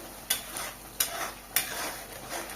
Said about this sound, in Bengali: তেলের মধ্যে পেস্ট করা মশলা দিয়ে দেবো।